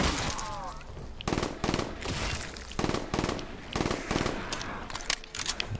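Automatic gunfire in Call of Duty Black Ops III zombies mode, several rapid bursts of loud, closely spaced shots separated by brief pauses, steady and near, with a little game voice before the shooting begins.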